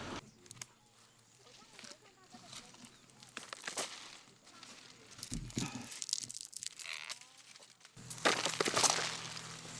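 Ripe sesame pods crack open and shed their seeds, a dense, dry patter and crackle of many small ticks and rustles like light rain, steady across the whole stretch and rising toward the end, with some speech mixed in.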